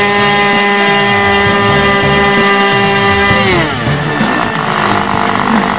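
Small model airplane engine on a SPAD-style model running steadily at a loud, buzzing, high-pitched drone, close by, with the pitch sliding down partway through and then settling.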